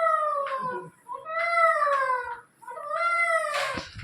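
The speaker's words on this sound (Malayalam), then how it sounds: "എവിടെ പൂച്ചോ?" A cat gives three long, drawn-out meows, close and clear, each rising and falling, with brief pauses between them and a scuffling noise at the end.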